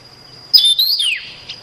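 A Taiwan Yuhina gives a single bright, clear call, a quick rising-then-falling whistled phrase close by, standing out against a quiet background.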